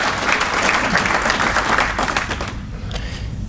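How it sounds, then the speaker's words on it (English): Audience applause at a city's State of the City address, a steady wash of clapping from a large room that holds loud and even for about two and a half seconds before thinning out. "another round of applause for their schools here"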